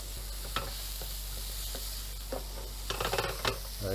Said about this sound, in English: Move that around, stirring it around, getting those oils from the chorizo out there.